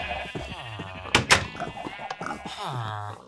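Sheep bleat on a Minecraft village farm, several clear bleats near and loud, mixed with short thumps and knocking from the game.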